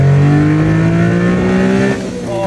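A Honda Beat kei roadster with manual steering and individual throttle bodies revs loudly from inside the cabin on a drive along Skyline Boulevard, its engine droning with a strong, slightly rising tone that eases off near the end.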